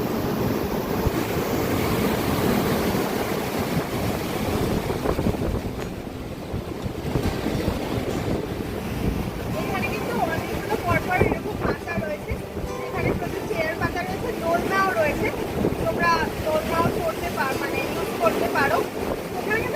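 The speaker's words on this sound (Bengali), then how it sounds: "প্রচুর হাওয়া যেহেতু সমুদ্রের জল একদম কাছে খুব হাওয়া দিচ্ছে" Strong sea wind gusts across the open beach at Tajpur, a steady broadband roar blending with nearby surf, loud and continuous throughout, with a person talking over it at times.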